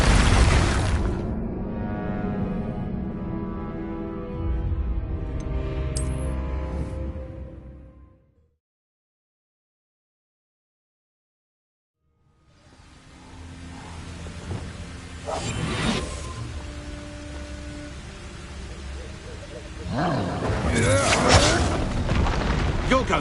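Expulso explosion spells boom and whoosh in the Hogwarts Legacy video game, with several bursts before and after a few seconds of total silence. Game voices are heard alongside the blasts.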